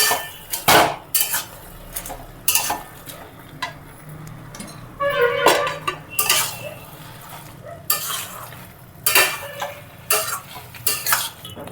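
A spoon stirs fish head and cabbage curry with ground garam masala paste in a pot, giving repeated clattering metal scrapes and knocks over a soft simmering sizzle, close-up with no voices.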